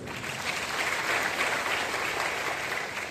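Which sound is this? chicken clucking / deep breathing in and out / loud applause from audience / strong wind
loud applause from audience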